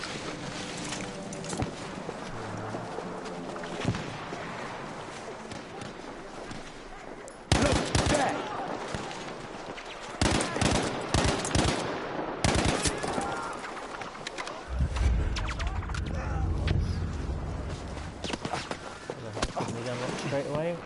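Machine gun fire in the video game Battlefield V, with rapid bursts of loud automatic shots in clustered volleys over game ambience while someone talks throughout.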